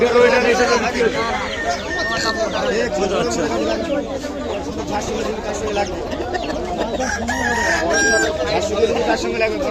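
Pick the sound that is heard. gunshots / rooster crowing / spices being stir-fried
rooster crowing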